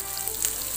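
Food frying in a pan with a steady close sizzle and faint stirring, constant in level, with no voices.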